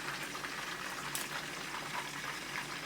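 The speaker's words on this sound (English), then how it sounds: "It just fried real good" Milkfish fries in a pan with a steady, close, broadband hiss and crackle that holds evenly throughout, with no talking over it.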